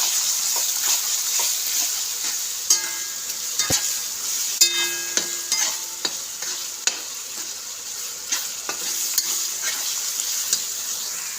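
Onion and tomato masala with turmeric and salt is stirred in a pan for okra curry, a spoon scraping in irregular close clacks over a steady soft sizzle, with no talking.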